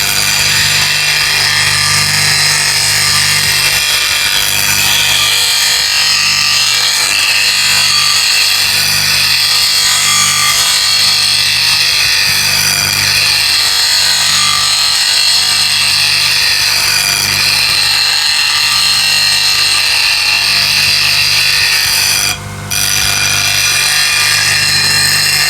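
A turning gouge, M2 or M42 high-speed steel, is ground on an 80 grit CBN wheel, a continuous close, loud rasping hiss with a steady motor hum underneath and one brief interruption near the end.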